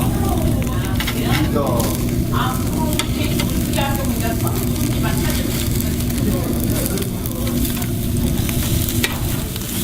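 Marbled Korean beef sizzles and flares over a charcoal grill at a barbecue restaurant, a loud, continuous hiss of spitting fat and crackle throughout, with voices murmuring in the background.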